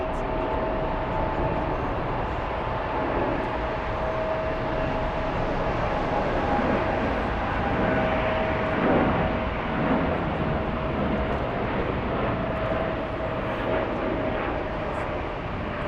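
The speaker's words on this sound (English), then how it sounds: "Air Canada on its way to Toronto, Flight 843 on a 787-8 Dreamliner" Air Canada Boeing 787-8 Dreamliner jet passing at Frankfurt Airport, a steady broad engine roar holding at a fairly even, moderate level throughout without a clear rise or fade.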